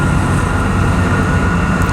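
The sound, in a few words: train passing nearby on a railroad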